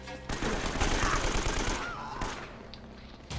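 AK rifle fire in the Uncharted video game: loud, rapid bursts of automatic shots crackle close and dense for about two seconds, then taper into a few scattered reports.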